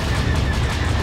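Rapid, dense spaceship gunfire in the space-combat video game SWTOR Galactic Starfighter, a loud, unbroken barrage of shots close up with no pause.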